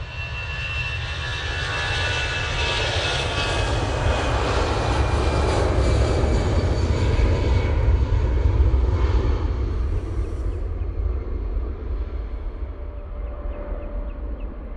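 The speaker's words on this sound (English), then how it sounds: "Easyjet to Belfast, lined up, ready to go." EasyJet airliner bound for Belfast taking off from Manchester Airport, its jet engines building to a loud, broad roar that swells, peaks mid-way and then slowly recedes into the distance.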